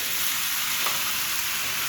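Pumpkin greens sizzle in hot mustard oil, a dense, steady close hiss with no voices.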